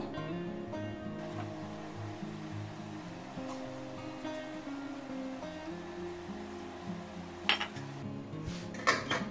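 Water and fish go into a pan of spiced oil for a Bengali foli fish curry with potatoes, giving a continuous bubbling wash with a few sharp clinks of metal utensils near the end.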